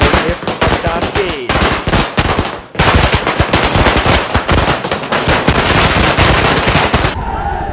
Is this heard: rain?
no